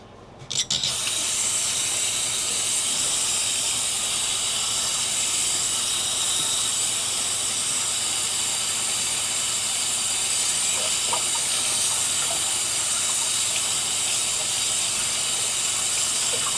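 Tamale wrappers being rinsed under a running tap, a loud continuous hissing gush of water that starts abruptly and holds steady throughout, with faint handling sounds and no talking.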